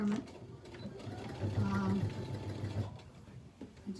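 A sewing machine stitching a seam in heavy mesh beach bag fabric, running in a steady mechanical whir for a couple of seconds in the middle, with a voice talking over parts of it.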